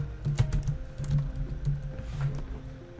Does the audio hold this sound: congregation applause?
no